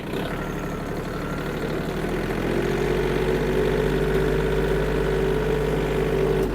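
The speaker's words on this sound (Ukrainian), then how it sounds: "Трактор впевнено розігнався до своєї максимальної швидкості." A Yanmar or Kubota compact tractor engine runs loud and close, a steady diesel drone that rises in pitch as it gathers speed, with no talk over it.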